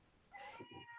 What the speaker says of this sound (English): I can hear my cat meowing too